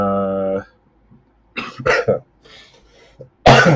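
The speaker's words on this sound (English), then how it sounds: "sorry, cough. Too much smoking." Several harsh coughs in short bursts, close and loud, separated by brief pauses; a voice is heard briefly before them.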